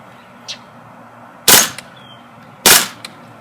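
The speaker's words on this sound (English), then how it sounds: "Here's a feature of the 2-round burst." KWA Kriss Vector gas blowback airsoft gun firing two-round bursts outdoors in a backyard. Two sharp, loud cracks come a little over a second apart, each made of a quick doubled snap, with faint clicks in between.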